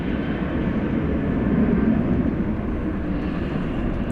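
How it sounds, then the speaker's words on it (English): A Frontier Airbus A321 arriving from Denver at DFW at night gives a steady, broadband jet roar that holds evenly at moderate loudness throughout, with no voices. "It's an Airbus A321."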